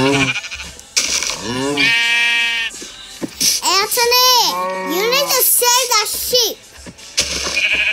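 Repeated wavering, bleat-like cries from sheep in Minecraft ring out loudly in bursts, with a brief child-like vocal tone mixed among them.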